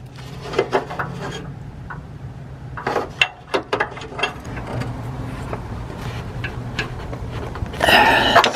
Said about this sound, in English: So now we'll go underneath and finish it up with the wrench.